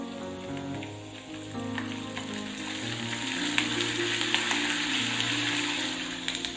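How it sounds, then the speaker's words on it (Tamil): Ginger and curry leaves frying in hot oil for sweet pongal tempering, a steady close crackling sizzle with small pops that runs the whole time, alone with no talk. "இஞ்சி ஓரளவுக்கு நல்லா ஃப்ரை ஆனதும் இதுல கொஞ்சமா கருவேப்பிலையும் சேர்த்துக்கலாம்."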